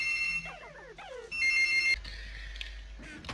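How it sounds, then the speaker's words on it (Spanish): A mobile phone ringtone plays: short bursts of bright warbling electronic tones and chirpy melodic notes, fairly close and clear over about three seconds, with no one talking over it. "Y así suena mi teléfono, chicos."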